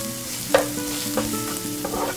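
Lemongrass, garlic and chili stir-fried in a pan for a vegetarian crispy ribs dish: a close, brisk sizzle with a few quick spatula scrapes in short strokes.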